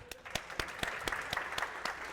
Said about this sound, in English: Round of applause if you dated people before you got married.